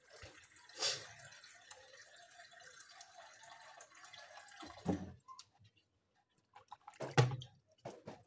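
Water runs and drips while leaves are rinsed clean in a home hair-care preparation, with a splashy burst near the start, quieter trickling through the middle and another louder splash near the end; no voices.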